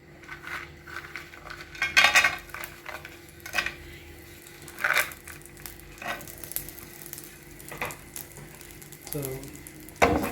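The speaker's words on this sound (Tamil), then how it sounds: "இப்போ நெய் இந்த முந்திரி பருப்பு நல்லா பொரிஞ்சிருச்சு." Cashews and raisins fry in ghee for pineapple kesari, a soft sizzle under scattered metallic scrapes and clinks of a spoon against the pan, with several sharper taps spaced through the stretch.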